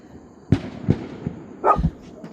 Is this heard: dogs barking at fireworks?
yes